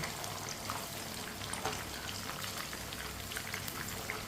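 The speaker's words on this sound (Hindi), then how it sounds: "ये मैंने 5-6 मिनट के लिए इसे फ्राई किया है" Flour-coated chicken fries in a pan over medium heat, giving a steady dense crackle and sizzle at moderate level throughout, with no talking.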